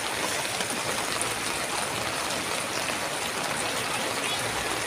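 Floodwater rushing through a flooded street: a dense, constant broadband roar of flowing water, loud and close, without pause for the whole stretch.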